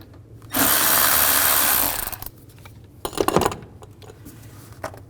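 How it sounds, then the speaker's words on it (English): A power tool drives an 8mm socket to loosen a worm clamp on a 2000-06 GMC Yukon during knock sensor replacement: one loud, close whirring burst of about a second and a half, followed by quieter clicks and rattles. "Then loosen up the worm clamp here using an 8mm socket"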